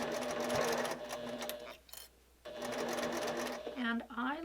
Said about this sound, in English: I'm just going to stitch forward and then stitch backward and then come down.